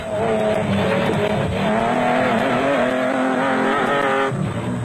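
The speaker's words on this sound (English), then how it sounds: "On board with race leaders Grobler and Leek in the Nissan hardbody, the rough terrain had taken its toll on a significant percentage of the field" A Nissan Hardbody off-road race truck in the 2002 Caledon 400 in South Africa roars continuously over rough terrain, heard on board with a loud, sustained engine drone rising and falling in pitch.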